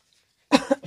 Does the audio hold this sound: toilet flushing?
no